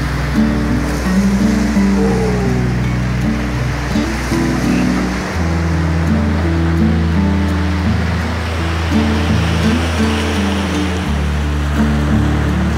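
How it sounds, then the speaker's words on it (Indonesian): Ocean surf rolls in continuously at night on a beach at Singkawang, a steady loud wash of breaking waves with no voices, deep rumble underneath. "yang ada hanya bunyi ombak saja"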